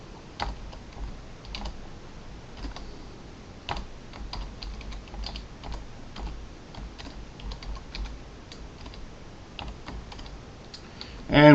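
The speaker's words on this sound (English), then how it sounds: "We'll then type in y label." Typing on a computer keyboard while entering MATLAB plotting commands, a steady stream of light, irregular key clicks with occasional sharper taps, close and moderately quiet.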